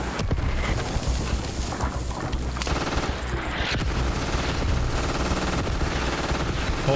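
Rapid automatic gunfire in the military shooter Squad, a dense, relentless stream of shots that runs loud and continuous for the whole stretch with no pauses and no talking.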